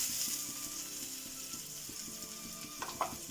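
Grated coconut roasting in a pan with onion, curry leaves and fenugreek for a Kerala bitter gourd theeyal, giving a soft steady sizzle with faint stirring scrapes and a couple of louder clinks near the end.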